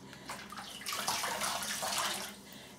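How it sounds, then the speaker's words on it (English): Water splashes and runs from a tap as hands wet the face before a shave, a close, continuous splashing that swells in the middle and eases off, with no talking. "let's wet the face next"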